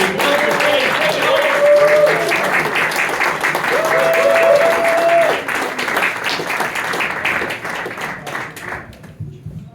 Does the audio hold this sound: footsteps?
no